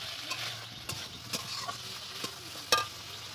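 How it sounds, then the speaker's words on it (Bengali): Soybean chunks and potatoes stir-frying in a pan, a soft steady sizzle broken by a few sharp scraping taps of a spatula, close and fairly quiet with no talk. "আর এখানে কষা হচ্ছে সয়াবিন আর আলু"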